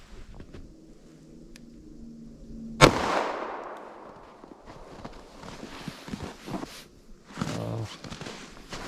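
A single sharp 9mm+P external hollow point gunshot from a 5-inch barrel cracks into a ballistic gel block, with a short decaying tail, then scattered shuffling and handling noises.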